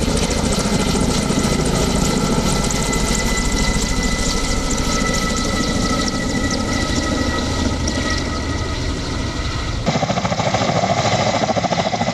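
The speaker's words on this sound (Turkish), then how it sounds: "havadan da helikopterler söndürme çalışmalarına katıldı" Firefighting helicopters work over a burning maquis shrubland fire, their engines and rotors making a loud, constant droning roar that fills the whole stretch with a steady throb and no talk.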